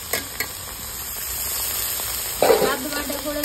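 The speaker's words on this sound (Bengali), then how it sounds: "আদা রসুন কাঁচা লঙ্কা পেঁয়াজ সব যা আছে পেঁয়াজের সঙ্গে ভালো করে কষিয়ে নিয়েছি।" Ginger, garlic and green chili paste frying with onions in a pan for a home-style Bengali chicken curry, giving a steady close sizzle with a few soft scrapes early on and a louder burst of frying near the end.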